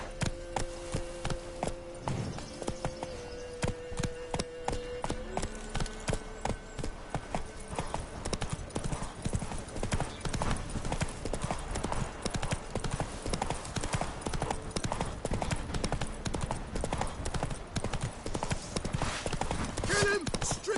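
Hooves of the horse Roach clip-clopping in The Witcher 3, a steady rhythmic trot of distinct close hoofbeats running throughout alongside faint game ambience.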